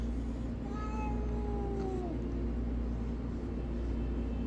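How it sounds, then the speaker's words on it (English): A 3-year-old male shelter cat lets out a few drawn-out, descending meows over a steady low background hum; the calls are soft and fade by the middle of the clip. "this is Car Cat"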